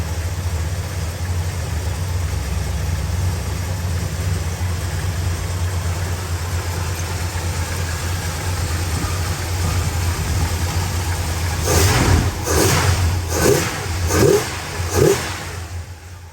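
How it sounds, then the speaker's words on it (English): A Dodge 383 Magnum V8 with electronic ignition settles into a steady, loping idle, then gets several sharp revs in quick succession near the end, close and loud. "a finer, tighter running 383 Magnum. That sounds this good."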